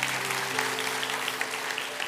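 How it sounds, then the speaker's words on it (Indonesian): A church congregation applauds during a sermon, a dense, even wash of clapping from a large room, steady and moderately loud, with a low sustained hum beneath. "Kasih tepuk tangan untuk Tuhan."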